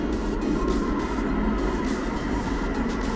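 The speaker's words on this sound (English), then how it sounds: "Ito po yung train nila." Light rail train of the Ottawa LRT, a steady low rumble and rolling drone of the railcar running continuously at close range, with no voices heard.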